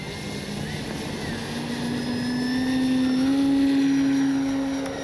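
E-flite Carbon Z T-28 RC plane taking off from uncut grass, its electric motor whine rising steadily in pitch and loudness as it accelerates, a continuous tonal drone with faint voice in the background.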